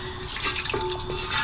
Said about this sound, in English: So I'm going to put all of that water.